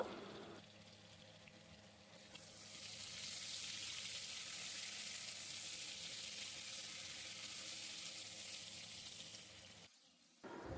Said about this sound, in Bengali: লবণ আর হলুদ এই দুটো দিয়ে আমি আলুগুলো ভালো করে লাল লাল করে ভেজে নেব